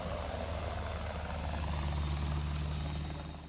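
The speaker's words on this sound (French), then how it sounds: "Pendant toute l'opération, un hélicoptère d'attaque Tigre surveille la zone" A Tigre attack helicopter flies over the area with a steady, loud rotor thump and turbine whine that slowly fades near the end.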